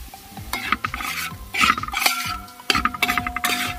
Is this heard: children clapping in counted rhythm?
no